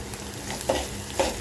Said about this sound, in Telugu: మసాలా దినుసులు, బిర్యానీ ఆకు, పచ్చిమిర్చి కొంచెం కలర్ వచ్చేదాకా వేయించాలి